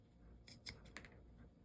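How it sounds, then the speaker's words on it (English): ROXON scissors snip through paracord in a few quick, crisp cuts, close and quiet, with no talking. "If they cut through paracord easily, then they'll usually cut anything you need them to."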